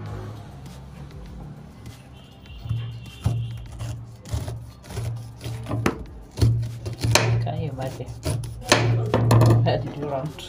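Knife chopping carrot, cucumber and pineapple on a board for juice, a run of sharp irregular cuts that grows busier and louder toward the end over a steady low hum.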